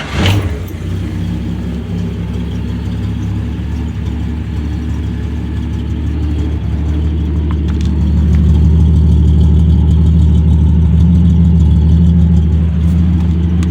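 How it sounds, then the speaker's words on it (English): A 1965-66 Plymouth Valiant with its 200 engine and a Flowtech afterburner muffler fires up and idles steadily, the loud, deep rumble rising slightly toward the end, with no talking. "Let me go ahead and fire this up for you."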